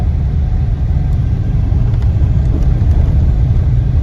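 A car drives along a rough desert farm road in Saudi Arabia, with a steady loud engine rumble and heavy road noise that hold constant throughout.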